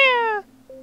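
A single cat meows clearly and close up in the mobile game Girls' Frontline, a drawn-out falling cry followed by a short, quieter tail.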